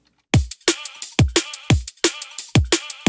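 A punchy electronic drum and bass drum loop plays alone, with booming kick hits and sharp snare cracks in a fast, steady breakbeat pattern.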